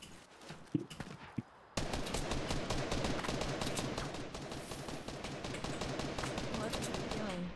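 Video game gunfire aimed at a supply drop: a few isolated shots, then a sudden dense burst of rapid, continuous automatic fire that runs steadily to the end, with a voice briefly talking over it.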